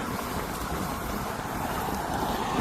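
Strong wind gusting at a Thai beach near an airfield, a steady loud broadband roar with microphone buffeting throughout and no voices.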